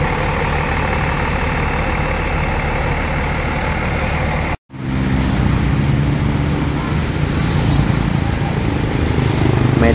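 A Romit Tour and Travel bus from Jambi rolls past at the Karma souvenir centre car park in Bandung, its engine a loud, steady rumble that breaks off briefly and resumes with traffic noise.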